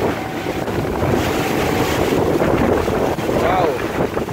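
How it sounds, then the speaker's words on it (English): Strong wind roaring across the microphone with waves slapping the hull during a boat ride on a big swell off Ras Al Khaimah, constant and loud, a voice faintly audible underneath. "Wow, it's big waves and windy."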